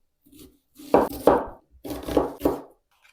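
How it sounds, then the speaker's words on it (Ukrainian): A knife cuts through a medium onion into half rings on a board in quick pairs of crisp, crunchy slices, close up, with short pauses between. "У мене ось така середня цибулина і нарізаю її півкільцями."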